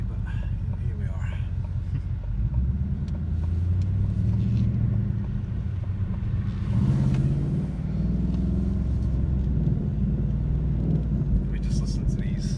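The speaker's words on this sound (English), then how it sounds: "We just listen to these pops, grumbles." Ford Mustang GT exhaust rumbling steadily with low grumbles and occasional pops, loud and close, with voices talking over it and the engine swelling briefly midway.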